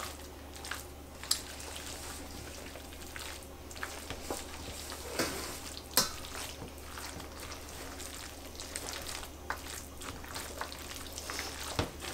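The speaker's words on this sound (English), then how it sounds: "we're going to stir it really well, but also gently because we don't want to break up the potatoes" A spoon gently stirs chunky potato salad in a bowl, producing soft wet squelches and scattered light clicks against the dish, quiet and close with no talking.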